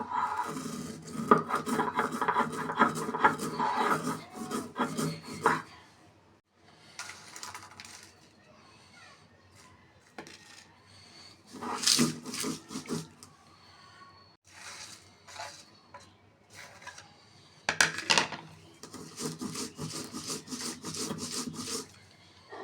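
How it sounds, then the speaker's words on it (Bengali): Onion, garlic, mustard seeds and dried chili are ground into a paste for a mann kochu bhorta. Rough, rhythmic rasping strokes come in bursts, separated by quieter pauses. "এখানে আমার হচ্ছে এই পেঁয়াজ রসুন সরিষা আর হচ্ছে শুকনো মরিচটাও এখানে বেটে নিয়েছি"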